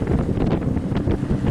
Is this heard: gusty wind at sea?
yes